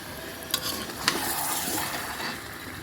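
Meat frying in a spiced masala in a pan, a steady sizzle with stirring clatter and a couple of sharp utensil knocks near the start, close and continuous with no talking.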